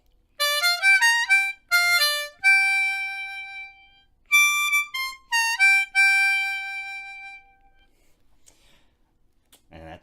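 Harmonica plays a second-position blues phrase in the upper register: bright, high, breathy notes in short stepping bursts and held tones, two grouped runs separated by a pause, trailing into quiet with a faint breath at the end.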